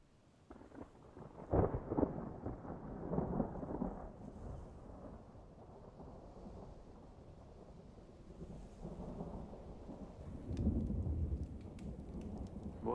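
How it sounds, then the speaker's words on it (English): Deep rolling thunder rumbles through a storm, swelling in a few heavy low surges and then fading into a steady background roar, with no voices over it. "Sounds like thunder."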